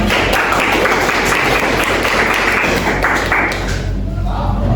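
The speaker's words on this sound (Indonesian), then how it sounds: "Tepuk tangan untuk Mas Rian" Audience applause at a meeting or class, steady mixed clapping with some thumps and taps, fairly close, fading off near the end.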